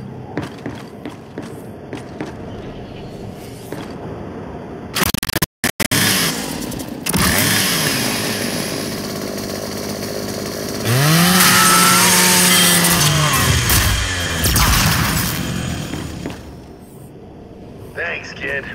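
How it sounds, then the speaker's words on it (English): Lancer rifle chainsaw bayonet revving and grinding through a custodial robot unit in the Gears 5 video game, a loud sustained buzzing roar with rising and falling pitch, amid game noise and voices. "scrap that custodial unit for me. Just use your Lancer's chainsaw."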